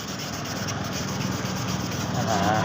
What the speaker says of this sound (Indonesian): kurang lebihnya penggosokannya seperti ini sampai halus, sampai merata